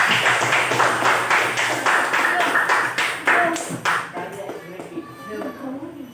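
Classroom of children clapping their hands in a quick rhythmic run of sharp claps that ends abruptly, followed by children's chatter and a teacher's voice.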